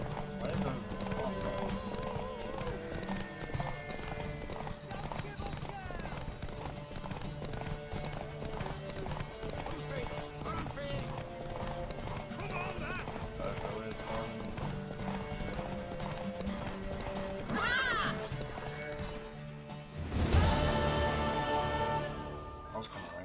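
Steady clip-clop of a horse's hooves trots along under music and voices in the video game Witcher 3, with the horse neighing loudly near the end.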